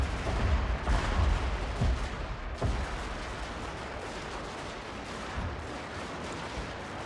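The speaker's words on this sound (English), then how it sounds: "Be hit by my own artillery," Artillery fire in the Total War: Fall of the Samurai game, with a few heavy booms in the first seconds over a dense, continuous roar of distant gunfire and battle noise.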